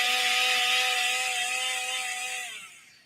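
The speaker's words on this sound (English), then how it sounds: "I hear the chainsaws." A chainsaw sound effect roars loud and steady with a high droning engine whine, then fades out toward the end.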